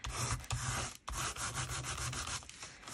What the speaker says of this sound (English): I wonder whether I can rub side to side.